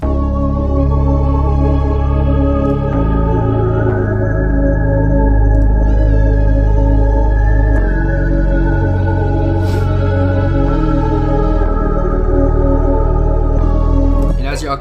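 Processed synth lead melody from the Analog Lab Black Palms Lead preset, EQ'd and given a halftime effect, with a dark, sustained, gliding line over a heavy low end, loud and continuous.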